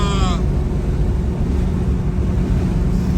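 Porsche 928 small-block V8 cruising steadily at about 2,800 RPM and 78 mph on a highway drive, a continuous low engine and road drone with wind rush filling the cabin throughout.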